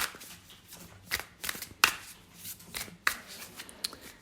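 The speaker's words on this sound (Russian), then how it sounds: "Пока я выкладываю карты" Tarot cards being laid out on a table: a run of soft, irregular card slaps and shuffling flicks, close and quiet, with no voices.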